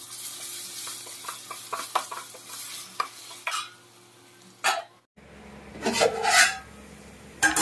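Ginger garlic paste frying with onions for an Andhra mutton curry, stirred with a spatula that scrapes and rasps against the pan over a soft sizzle, a few distinct strokes, then louder, busier stirring after a brief pause.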